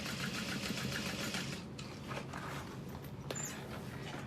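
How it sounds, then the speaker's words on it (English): A sewing machine stitches a modified barrel bag at stitch length 5, running in steady rapid bursts with brief backstitch pauses, close and moderately loud throughout. "backstitch, backstitch, stitch length at a 5, backstitch there, continue all the way down."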